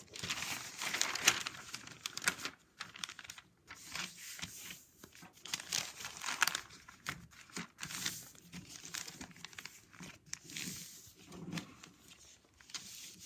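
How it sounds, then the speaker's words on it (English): Paper strips being folded for basket weaving, close and fairly quiet crinkling and rustling in irregular bursts separated by short pauses, with no talking. "Now we're going to keep folding until we have 4 rows going down and 4 rows going across."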